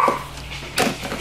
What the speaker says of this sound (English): What is with these dogs today? They have lost their mind.